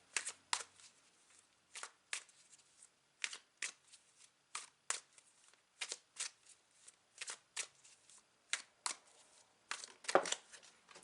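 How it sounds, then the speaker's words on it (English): Tarot cards being shuffled by hand, with quiet, crisp riffling bursts repeating at an irregular rhythm about every half second to second, close and soft, with no talking. "Let me continue my shuffling."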